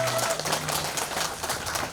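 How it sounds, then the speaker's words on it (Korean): A crowd applauds at an outdoor performance during the Masan Chrysanthemum Festival, a steady wash of many clapping hands heard from a distance, with faint musical tones lingering underneath at the start. "박수 한번 쳐주시면 고맙겠습니다."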